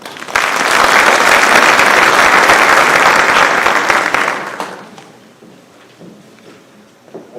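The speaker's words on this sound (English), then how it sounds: "One more round of applause for these students." A large crowd applauds loudly and steadily for about four seconds at a high school class night awards ceremony, then the clapping fades away, leaving a quiet room with a few faint scattered sounds.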